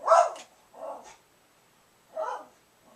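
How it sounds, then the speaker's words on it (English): A dog barks three times at close range, two quick barks followed by a pause and then a third, each short and sharp with quiet gaps between. "the reason why my freaking dog's barking today is because we're having kids over the house"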